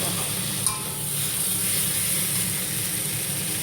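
Potatoes sautéing in hot oil in a pan on the stove, a steady close sizzle with a single scrape of the stirring spoon early on.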